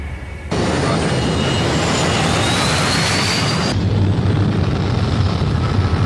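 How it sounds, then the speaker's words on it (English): Inside a passenger airplane cabin, a broad, loud jet engine roar rises abruptly, holds steady for a few seconds, then eases into a lower, rumbling drone. "Flight attendants, please prepare for takeoff."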